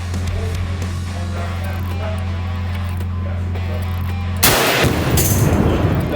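Gunfire at an outdoor gun range during a day out with UTVs: a steady engine-like hum runs underneath, then a loud sharp burst of shots near the end, with people speaking.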